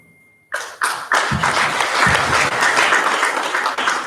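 Summit audience at a Nigerian policy gathering on the 2023 general elections breaks into applause for a speaker, starting abruptly after near-silence and building to loud, steady clapping with a couple of dull thumps.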